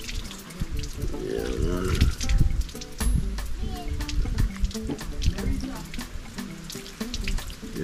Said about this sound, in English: Get some more water for wash up and clean